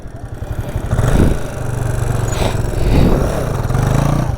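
A stock KTM NS 200 motorcycle engine during wheelie practice, running loud and close with a steady mid-pitched drone that swells in revving bursts around one and three seconds.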